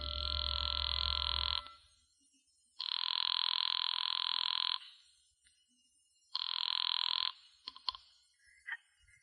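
A telephone rings in long, even bursts with silent gaps between them, like a payphone call in an old radio drama, and a few clicks sound near the end.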